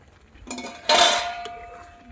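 A metal lid clatters onto a pot of ground-dal pithla cooking over a wood-fired chulha on a terrace, with a short scrape before it and a ringing fade after, close and with no voices.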